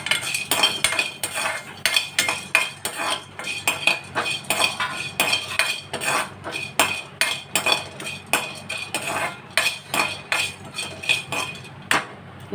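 Metal spoon scrapes and clinks steadily against a pan as whole cinnamon, cardamom and cloves are dry-roasted for a fish pickle, a rhythmic run of close, bright clatters without speech.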